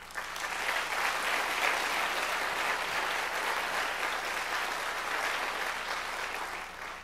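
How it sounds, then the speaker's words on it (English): Steady applause from a large audience at a college presidential address for All College Day at Cabrillo College in 2010, an even, sustained patter of many hands heard alone from start to finish. "So let's give a round of applause for our..."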